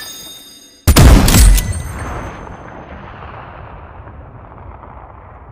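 One powerful, booming shotgun blast from a reworked Roblox Arsenal weapon, loud and close, followed by a long rolling echo that slowly fades.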